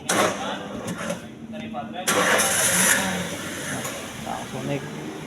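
A car engine is cranked and fires up in a workshop during emissions oxygen testing, the starter whir followed by a loud catch and settling idle, with people talking over it.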